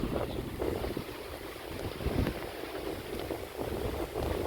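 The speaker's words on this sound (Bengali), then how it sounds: "এত ঝিরি বৃষ্টি সেই সাথে বাতাস" Wind rushes and gusts against the microphone in a continuous, fairly loud whoosh, with a soft patter of light rain beneath, on a village path during a storm.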